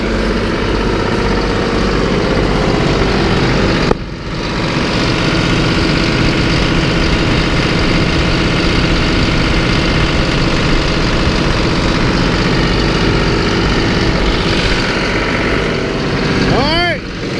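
A fuelled generator engine idles close by in a constant, loud droning hum that dips briefly once and then carries on evenly.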